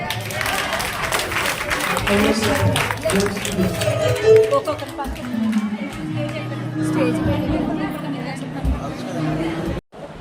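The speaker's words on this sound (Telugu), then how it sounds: "చప్పట్లు కొడదాం." A church congregation applauding during a service, a dense patter of many hands clapping that is strongest early and then thins, mixed with voices talking over it.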